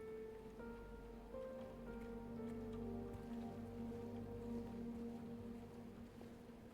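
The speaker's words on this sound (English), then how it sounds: "We've got the rain falling outside." Rain falls outside in Silent Hill 2 (2024), a soft, continuous patter laid under sustained synth ambience drones, low in level with no voices.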